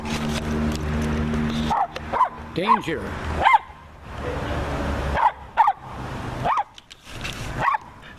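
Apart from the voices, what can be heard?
dog barking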